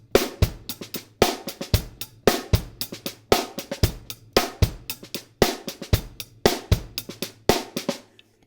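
A drum kit plays a steady groove alone, with bass drum, crisp accented snare backbeats and soft snare ghost notes filling between them, up close and even in rhythm, ending with a brief decay.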